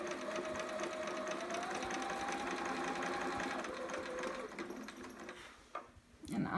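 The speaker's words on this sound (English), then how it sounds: "So I'm just straight stitching all the way across the chest here." A sewing machine runs a straight stitch across the chest of a fabric baby romper, a steady close mechanical whir that slows and stops near the end.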